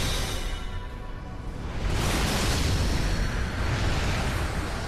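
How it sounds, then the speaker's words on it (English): A loud, sustained explosion in the Kingdom Hearts Birth by Sleep final boss battle against Vanitas, building into a broad roaring rumble that swells after the first couple of seconds and carries on, with no talking over it. "Oh, that's the explosion."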